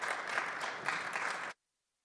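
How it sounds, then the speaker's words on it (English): An audience at a business talk claps to welcome a speaker to the stage, a full steady round of applause that cuts off abruptly into silence. "Give her a big round of applause."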